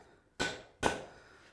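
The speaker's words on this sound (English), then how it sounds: "I don't want to damage my square edges, so I'll use the hammer and the wood" Two sharp hammer blows land on forged steel laid over a block of wood while a shepherd's hook is shaped, each a loud close crack with a short ringing decay, spaced about half a second apart.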